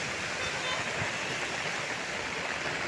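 Heavy, unrelenting rain during a power cut, a dense steady roar of downpour filling the whole scene at close range, with no breaks or other distinct sounds.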